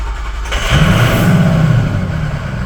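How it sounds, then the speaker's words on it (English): A used engine cranks over without battery power, giving a steady rhythmic churning that starts about half a second in and runs evenly to the end, close and fairly loud. "Cranking rhythm sounds good."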